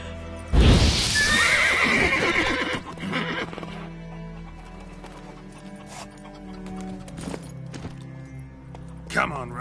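Roach, a horse in The Witcher video game, whinnies loudly near the start, then hooves clip-clop steadily beneath game music and ambience, with speech present.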